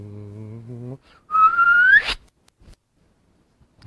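A man whistles an imitation of a gravitational wave signal: a brief low tone, then a quick chirp sweeping upward in pitch and cutting off sharply, followed by near silence.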